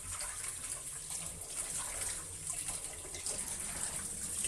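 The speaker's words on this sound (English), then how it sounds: "Rinse the baby bok choy with tap water in a large container or pot." Tap water gushes steadily into a large container or pot while baby bok choy is rinsed, a continuous close splashing flow with no voices.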